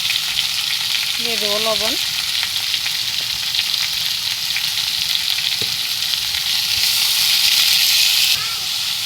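Onions and pumpkin fry in an oily pan with a steady, close sizzle, and a voice speaks briefly over the frying.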